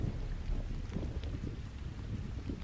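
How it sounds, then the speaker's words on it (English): Heavy rain with thunder during a storm, a steady dense downpour with low rumbling throughout, loud and continuous with no voices. "the rain and the thunder started pouring in"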